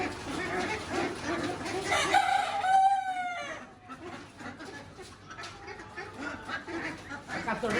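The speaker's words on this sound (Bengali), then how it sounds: "এখান থেকে হাঁস মুরগি কিনবো" At a poultry market selling chickens and ducks, a rooster lets out a long, close crow over a steady din of clucking birds and background voices.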